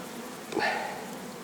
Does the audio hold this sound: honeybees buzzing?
yes